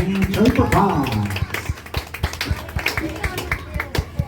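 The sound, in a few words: audience applause for the Tweetsie Cowboys show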